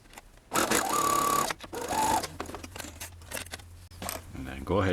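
A sewing machine stitching a fabric face mask in short bursts of whirring that stop and start, close up and mixed with a person's voice talking nearby.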